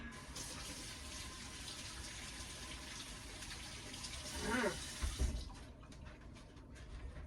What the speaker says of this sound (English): Oh, I need to go rinse my hands.